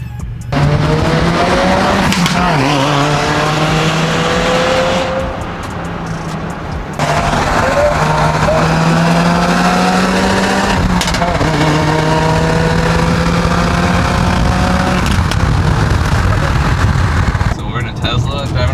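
A 2022 Subaru WRX fitted with a Tomei exhaust cruises on a freeway, its engine drone steady and loud with rising tones as it pulls through gears, and brief dips between shifts; a person talks over it.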